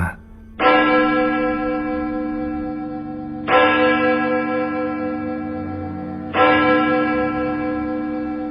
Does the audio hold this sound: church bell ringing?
yes